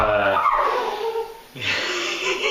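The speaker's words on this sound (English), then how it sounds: "The dog wants some too." A rescued dog at a table during a beer tasting whimpers and whines in drawn-out high cries with a brief pause, breathy sniffing between them, close and clear with no talk.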